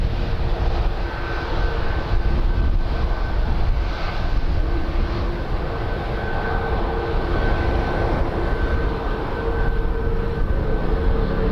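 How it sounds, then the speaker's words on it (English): Royal Air Maroc Boeing Dreamliner jet at Toronto Pearson airport, a steady, loud engine roar with broadband rumble sustained throughout, no talking. "There's a Royal Air Maroc Dreamliner."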